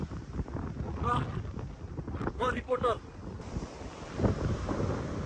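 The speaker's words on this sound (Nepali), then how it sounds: "हावा कन्टिन्युस चलिरहेको छ" Wind blows continuously across an outdoor campsite, a rough rumbling buffet against the microphone throughout, while a couple of voices speak briefly over it.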